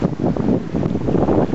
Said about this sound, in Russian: А вот это море.